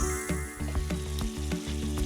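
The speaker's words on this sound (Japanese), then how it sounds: "最後ちょっと皮目を少しだけ皮目焼いていきます。" Potato pieces fry skin side down in a covered pan, a loud, steady close sizzle punctuated by regular crackles and pops, with no talk.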